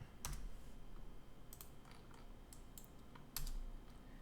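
Keystrokes on a computer keyboard while entering a measurement in Rhino 3D modelling software, a few sharp clicks in quick bursts with pauses between, close and fairly quiet over faint room hiss.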